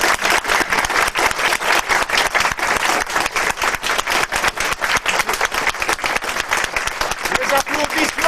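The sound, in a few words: audience applauding the artist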